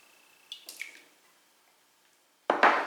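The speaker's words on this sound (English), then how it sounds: "Then I'm going to add 1 large egg at room temperature" One large room-temperature egg cracked into a mixing bowl: a couple of soft taps and a brief wet squish, then quiet before a louder sloshing splat near the end.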